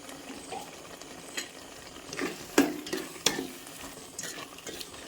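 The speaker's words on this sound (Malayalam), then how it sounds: "ഇതിങ്ങനെ നമ്മൾ ഇളക്കിക്കൊണ്ടേ ഇരിക്കണം" Thick yogurt kalan curry is stirred in a pan with a spoon, giving soft continuous scraping and a few sharper knocks against the metal, close and fairly quiet, with no voices.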